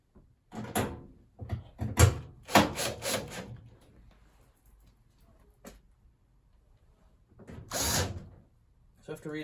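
Screws go back into a Beko DRCS68W condenser tumble dryer during a drum front seal replacement, with several separate bursts of driving, rubbing and clunking against the cabinet, close up and separated by quiet gaps.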